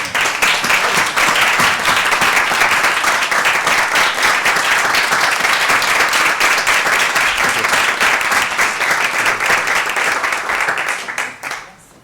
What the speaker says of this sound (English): If we could just give the doctor another round of applause.